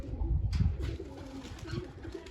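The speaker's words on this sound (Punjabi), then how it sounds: "ਤੇ ਇੱਕ ਆ ਕਬੂਤਰ ਬੰਨਾ ਇਹ ਵੀ ਖਰਾਬੀ ਕਰੂਗਾ ਜੀ" A tethered pigeon coos at a home loft, a few close, soft, low throaty coos in quick succession.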